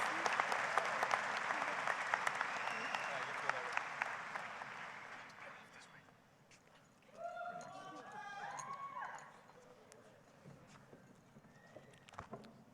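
Applause from a crowd at a high school graduation ceremony, a broad wash of clapping that fades out midway, followed by a voice speaking over a quieter hall.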